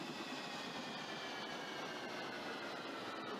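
Train running on the Victoria Line in the Open BVE train simulator game, a steady continuous rumble of wheels and motor with a faint high whine, no talk over it.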